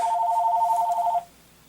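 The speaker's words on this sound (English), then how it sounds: "sorry about that phone call" A telephone rings with a steady electronic trill that stops abruptly after about a second, leaving quiet room tone.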